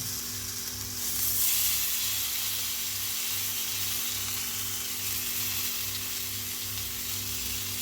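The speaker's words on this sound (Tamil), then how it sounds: "எண்ணெய் வந்து சூடாகிடுச்சு போட்ட கருவேப்பிலையெல்லாம் நல்லா பொரிய ஆரம்பிச்சிருச்சு இந்த டைமில் நம்ம மிக்ஸ் பண்ணி வச்ச வாழைக்காயை சேர்த்துக்கலாம்" Raw plantain sizzling in hot oil with crackling curry leaves, a steady dense hiss of frying that swells briefly early on, close and continuous, with a faint low hum underneath.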